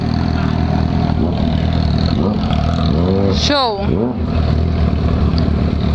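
A Suzuki SRAD motorcycle in blue Lucky Strike livery idles, then its engine revs up in a couple of sharp rising sweeps before settling back down, with people talking over it.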